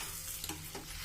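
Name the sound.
lentils being stirred while roasting in a pan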